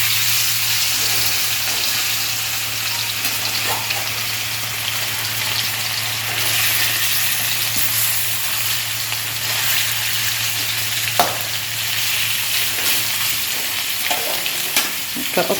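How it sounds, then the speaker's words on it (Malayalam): Chicken frying in a pan gives a steady, close sizzle that runs unbroken throughout, with a constant low hum underneath and occasional faint clinks. "അപ്പോൾ ചിക്കൻ വറുത്തുകൊണ്ടിരിക്കുക കേട്ടോ മോള്"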